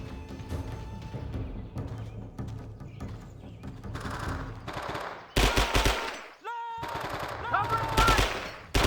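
Automatic gunfire and rapid bursts in the Vietnam War video game Men of Valor, loud and dense throughout, with brief pauses and sharp single shots near the end, layered over a busy battle mix.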